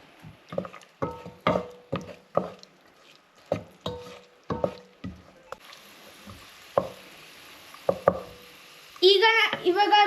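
Raisins and cashews dropped into hot ghee, with a run of sharp spoon clicks and taps against the pan giving way to a soft, steady sizzle; a brief voice comes in near the end.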